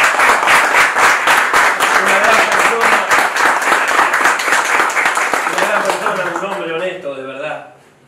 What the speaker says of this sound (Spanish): Un aplauso grande para los abuelos.